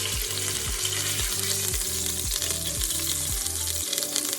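Food browns in a hot frying pan while French onion soup is being cooked, with a steady, close, crackling sizzle throughout and a soft rhythmic pulse underneath.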